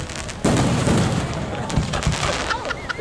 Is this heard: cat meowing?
no